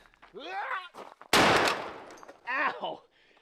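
A single loud rifle shot cracks out close by between stretches of talking, its echo trailing off before speech resumes.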